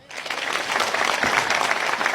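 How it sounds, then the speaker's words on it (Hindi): A rally crowd claps in dense, steady applause that builds quickly and holds at a strong level for the whole short stretch. "उनके लिए तालियां बजाया।"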